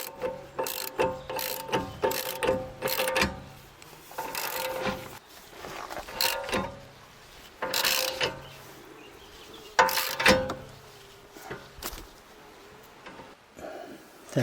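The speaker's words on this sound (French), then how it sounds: "je vais bloquer derrière avec la clé, la grosse clé à molette" A large adjustable wrench working on the driveshaft of a BMW E91, giving a string of irregular metallic ratcheting clicks and clanks in bursts with short pauses between, close up, with no speech.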